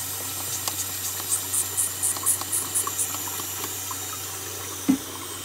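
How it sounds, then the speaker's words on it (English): Cold water runs from a tap in a steady, moderate stream, with faint clinks and a single soft thump near the end, and no voices. "Did I turn the cold water on?"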